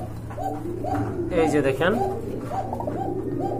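A pair of Koka pigeons coo and call repeatedly at close range, soft rolling coos rising into a busier burst midway, while someone talks over them.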